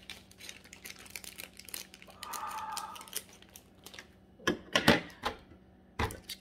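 Packaging of a die-cast toy car being cut open, with scattered close clicks, crinkles and snips, a brief scraping rasp, then a cluster of louder cuts and a final snip.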